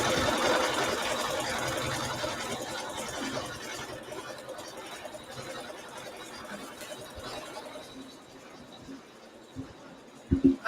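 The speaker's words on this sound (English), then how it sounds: "we're going to sew some quilting in the background" Sewing machine stitching background quilting on a sunflower table topper, a steady mechanical whir that gradually fades, ending with a few louder thumps.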